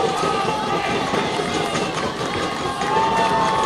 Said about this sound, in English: You can see the Littleton fans who made the journey down Route 93 standing and applauding